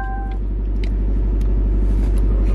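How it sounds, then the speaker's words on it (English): A car engine running in a low, loud, steady rumble close by, a brief beeping chime at the start, without talk. "I should probably start the car"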